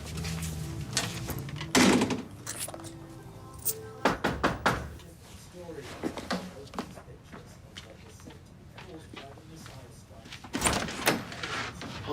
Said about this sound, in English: What are you doing knocking on the door anyway?